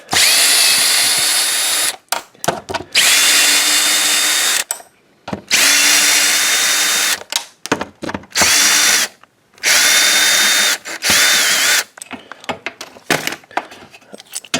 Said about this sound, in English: You can use, a ratchet, a box end wrench, and you can also use a drill